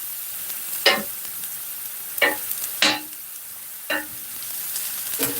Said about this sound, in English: the sausage over here, they're on the grill, they're opening up and they're keeping warm.